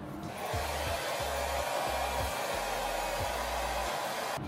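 A hair dryer blows steadily on hair, its loud close whoosh holding throughout while the airflow is moved back and forth, giving a rhythmic wavering in the lower hum.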